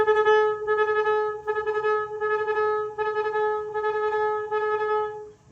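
A saxophone holds one pitch while rapid double-tongued articulations chop it into quick, even repeated notes in short bursts with brief pauses.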